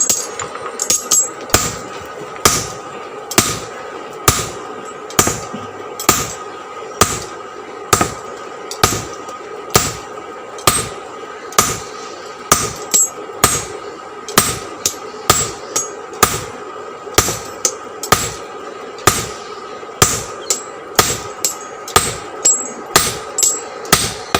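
A blacksmith hammering a cut piece of steel into a curved knife blade, loud ringing metallic blows falling in a steady, evenly spaced rhythm of roughly one strike per second, close up and without talk.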